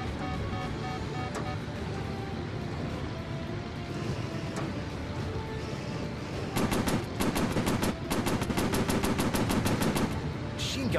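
Rapid machine gun bursts from a WWII warplane strafing ships and ground targets in a VR flight combat game, loud sharp repeated volleys over a steady engine drone.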